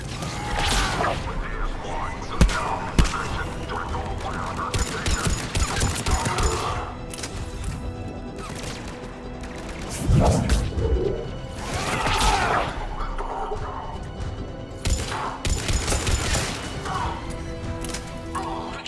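Gunfire crackles through a chaotic firefight in Mass Effect 3, with dense bursts, crashes and thuds under shouted voices and game music, loud and near throughout.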